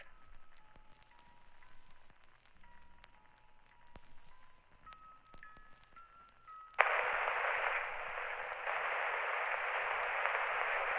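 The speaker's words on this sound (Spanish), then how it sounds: "La lluvia comenzó desde que cruzamos el arco oxidado" Steady rain falls hard and close from about seven seconds on, a broad continuous hiss that stays loud to the end after a quiet stretch with faint tones.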